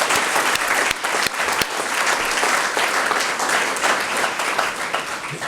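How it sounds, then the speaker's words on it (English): Loud, full audience applause at a county adoption day ceremony, a dense continuous roar of many hands clapping close by, with a few sharp individual claps early on. "Let's give him a round of applause."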